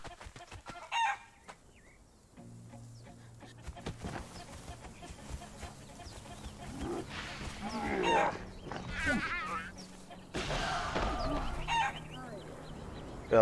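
Chickens in the video game Conan Exiles cluck and crow in short bursts over a quiet game backdrop, with someone talking now and then between the calls.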